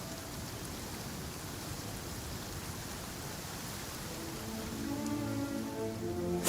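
Steady rain falls in the Genshin Impact video game, a soft, even hiss of drops throughout, with a faint tonal game sound rising near the end.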